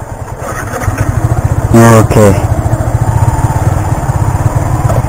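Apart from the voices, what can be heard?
Yamaha R15 motorcycle engine running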